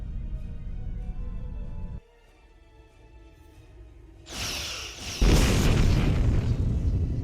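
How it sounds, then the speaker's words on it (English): Starship weapons fire in the space combat game Star Trek Online: loud booming blasts and a rushing explosive roar build after a quieter stretch, ending in a sustained heavy burst. "Target that ship and fire all weapons"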